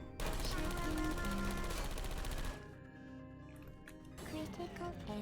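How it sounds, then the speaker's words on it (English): Turret in the video game PORGY playing a tonal musical pattern amid loud rattling gunfire-like bursts, dense at first, then thinning into steady tones before building again. "You can hear the turret. It's not very subtle here, but the turret plays music as well."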